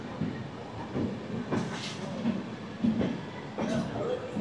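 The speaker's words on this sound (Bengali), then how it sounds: "ট্রেন কিন্তু আমাদের ঢুকে গেছে যোগনগরী ঋষিকেশ এক্সপ্রেস বা দুন এক্সপ্রেস 2 নম্বর প্ল্যাটফর্ম।" The Doon Express rolls into platform 2 at an Indian railway station, a low rumble of wagons broken by repeated hissing, clattering bursts as it passes nearby.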